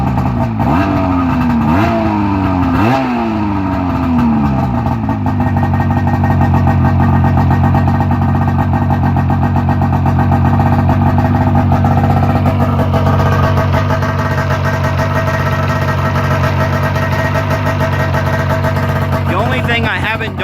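A 2003 Ski-Doo MXZ 600 H.O. snowmobile with a two-stroke engine blips sharply several times, then settles into a loud, steady, buzzy high idle close by for the rest of the run.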